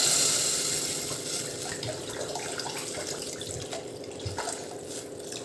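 Water pours steadily into a pot of sweetcorn soup being thinned, a continuous splashing, running-water rush that starts loudest and settles into a softer, even trickle with small drips and clinks.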